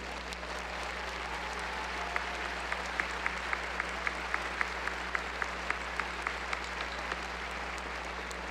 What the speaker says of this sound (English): stand and accept the applause of these students for your guidance, wisdom, and support